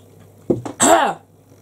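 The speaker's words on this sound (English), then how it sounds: "I'm going to cut this next bit out when I'm clearing my throat." A woman clears her throat in one short, close burst of rough rasping, preceded by a couple of brief catches, with silence around it.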